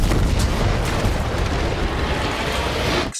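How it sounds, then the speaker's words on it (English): A loud, sustained explosive roar rumbles continuously for about three seconds, dense and booming, then cuts off abruptly. "Explosions."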